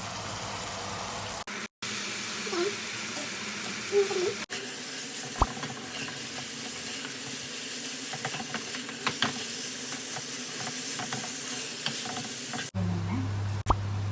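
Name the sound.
spaghetti added to pan with oil and chilli flakes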